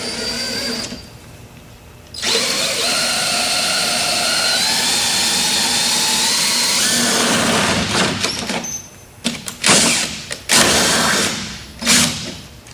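A power drill whines steadily at high speed for several seconds, then stutters in short bursts as it finishes boring through, drilling a hole to install a rear mounting bar.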